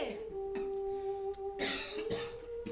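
Several bursts of coughing, close and fairly quiet, broken by short pauses over a faint background tone.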